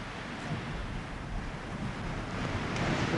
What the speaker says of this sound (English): I couldn't believe that wind blowing that hard.